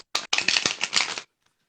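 A deck of oracle cards is shuffled in two quick riffles followed by a dense, rapid flutter, close and crisp, and then silence.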